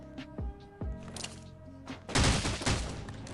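Gunshots in a mobile shooter video game, a few sharp single shots early followed by a louder rapid burst of fire, with game effects in between.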